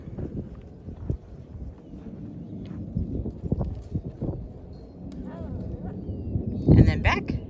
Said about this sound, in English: Good job getting them trotting and steering.